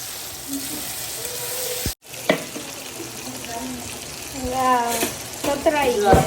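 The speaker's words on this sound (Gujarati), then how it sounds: "આપણે આને બે બે મિનિટ કે ત્રણ મિનિટ આપણે આને સાતળશું સરસ તેલમાં" Tomatoes sauté in hot oil with a close sizzling hiss that briefly cuts out, then resumes and grows louder toward the end, while a person speaks over the frying.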